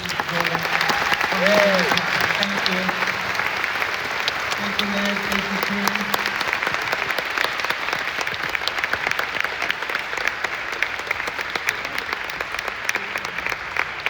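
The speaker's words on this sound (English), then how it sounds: "Please, a round of applause for my colleagues." Audience applause at a youth orchestra concert fills the hall, dense and steady throughout, while someone speaks briefly over it near the start.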